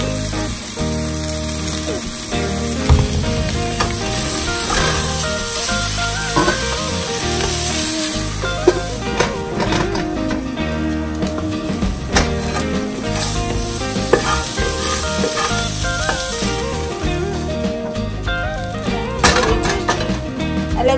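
Cauliflower frying in a pan gives a steady, dense sizzle with occasional stirring clinks and scrapes, loud and close throughout, with no talking.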